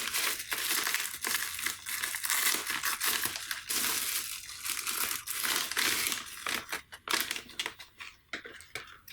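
Plastic parts bag from an Align T-REX 700XN helicopter kit crinkling and crunching close up, handled continuously in dense, irregular bursts with no voices.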